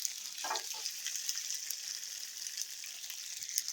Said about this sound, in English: And I got some of this chuck roast mac and cheese searing up.